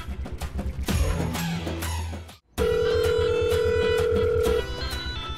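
A telephone rings unanswered in a domestic TV-serial scene, a loud sustained electronic ring tone with a brief gap partway through, over busy background music.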